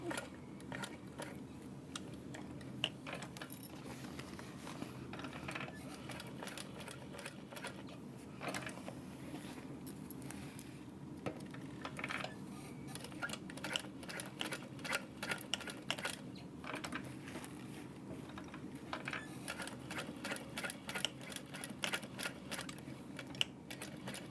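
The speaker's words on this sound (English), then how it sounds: "So I'm just gonna sew in a square around it." A sewing machine stitches a square onto a Taylor Tote bag, a quiet, rapid mechanical clatter of needle strokes running steadily with slight speed changes, faint and close, with no voices.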